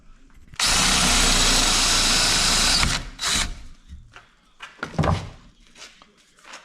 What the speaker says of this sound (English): So we're gonna go ahead and drill a hole